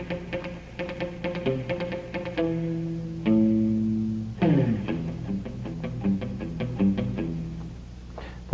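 A Fender Stratocaster played through its back pickup with heavy reverb, twangy plucked notes and strummed chords in a surf-style phrase, close and clear, ringing out with a washy tail and no voices.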